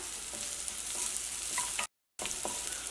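Crushed dried chillies fry in a hot pan for a breakfast egg dish, giving a steady, bright sizzle with faint stirring scrapes and a brief cut in the middle.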